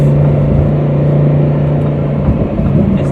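Loud, steady drone of a 2020 Lamborghini Huracan Evo engine on a test drive, a sustained low tone with a dip and slight shift near the end, close up and with no voices.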